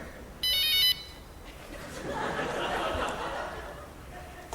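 A mobile phone's bright electronic message tone sounds once in a short burst, followed by chatter and laughter in a newsroom-style setting.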